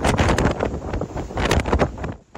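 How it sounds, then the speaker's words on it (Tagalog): Strong typhoon wind and rain lashing Batanes in the early morning during a signal number 5 storm, heard as loud, blustery gusts buffeting the microphone in short surges. "Humahampas ang hangin at ulan na naranasan kaninang madaling araw sa Batanes."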